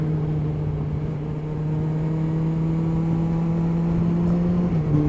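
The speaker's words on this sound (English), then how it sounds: "Engine braking kicked in." Motorcycle engine on a Scottish road in Oban-to-Applecross country, braking through a bend after the throttle is closed: a steady droning engine hum that holds and then drops slightly near the end, with continuous wind and road noise.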